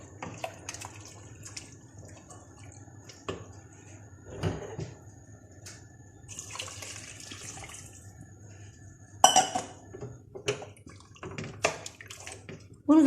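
Water poured into a cooking pot holding vegetables and meat for Tunisian couscous with chard, quiet pouring and splashing with clinks of a ladle or lid against the pot, fairly close, no one talking.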